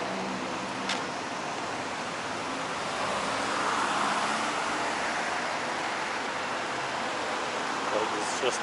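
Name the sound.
traffic on big boulevards in Kuala Lumpur city center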